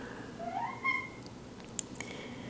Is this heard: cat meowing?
yes